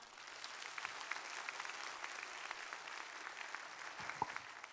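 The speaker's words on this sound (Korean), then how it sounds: "박수로 맞아주셔서 감사합니다." Applause from a church audience welcoming a speaker at a special thanksgiving evening event, a continuous soft patter of many hands heard from a distance, with a few louder claps near the end.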